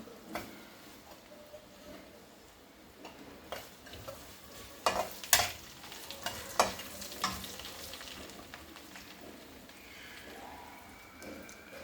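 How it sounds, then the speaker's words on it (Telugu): Curry leaves and other tempering spices fry in oil over low heat in a pan for sambar. A soft continuous sizzle runs throughout, broken mid-way by sharp crackles and pops and the occasional clink of a stirring spoon. No one speaks. "తాలింపు కూడా సిమ్లో పెట్టి వేసుకుంటేనే బాగుంటుంది లైట్గా వేగాలి"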